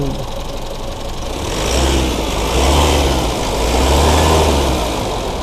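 An Isuzu MU-7 Primo Platinum seven-seat SUV with automatic transmission idles, then is revved twice in swelling bursts that fall back to idle, heard up close and loud with no talking.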